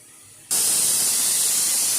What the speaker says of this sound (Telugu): ఇదిగోండి ఐదు విజులు వచ్చేసినవి